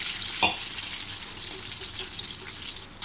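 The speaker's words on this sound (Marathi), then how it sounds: "हे अंडं फ्राय करायला आपल्याला जास्त वेळ नाही लागत." A Parsi-style egg cutlet patty fries in a pan over medium heat, giving a continuous close sizzle with a brief utensil tap near the start.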